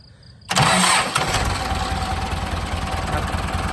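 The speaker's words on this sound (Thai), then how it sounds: "เดี๋ยวให้ฟังเสียงเครื่องยนต์ครับ" A 1996 Ford 6640 4x4 tractor's diesel engine cranks and catches abruptly, then settles into a loud, steady, rattling idle close by.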